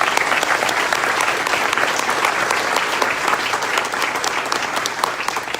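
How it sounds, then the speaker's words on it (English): Loud, sustained applause fills the room for Dabney Sanders at a downtown Greensboro civic presentation, a dense, steady wash of many hands clapping at once with no speech on top. "Dabney Sanders deserves a round of applause for all she's done"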